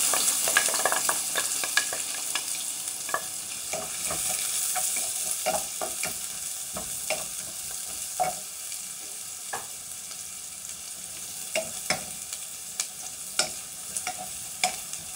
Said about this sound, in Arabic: نقلو في البصلة حتى تتولي حمرة